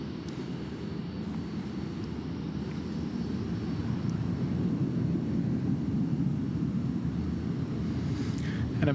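A passenger airplane taxis at Gold Coast Airport in heavy rain, a steady low engine rumble, moderately distant, holding constant throughout with a faint rise toward the end.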